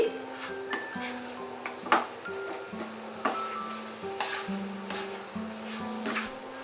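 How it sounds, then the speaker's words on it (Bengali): Sugar being stirred into semai for jorda semai, with a spoon scraping and clinking against a pot in short irregular strokes and a soft sizzle beneath, close and fairly quiet. "চিনিটা ভালো করে মিশিয়ে দিচ্ছি"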